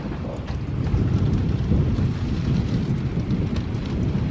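Strong cold wind gusts buffet a microphone outdoors during a thunderstorm with 55 mph winds, a steady low roaring rush with no talking.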